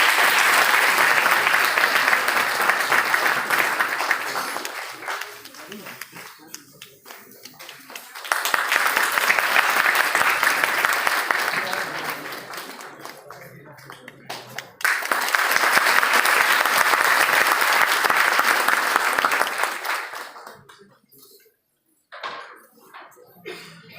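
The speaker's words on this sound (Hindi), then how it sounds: "आप लोग ताली बजा करके स्वागत करेंगे।" Audience at a district-level youth parliament event applauds a chief guest in three long bursts of dense, loud clapping, each fading out, with quiet gaps and a few knocks between.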